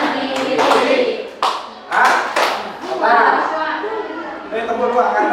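Students in a classroom clap hands in short counted bursts, sharp claps clustering in quick groups, while a teacher's voice and children's chatter run throughout.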